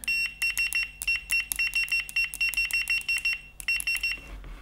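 A Fluke 87 multimeter on its continuity setting gives a rapid series of short, sharp electronic beeps in irregular bursts, loud and close, with no talking.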